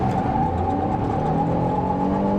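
A 2023 Buick Enclave Premium accelerates hard, its engine holding a loud, steady whirring roar with a faint rising tone, close and unbroken.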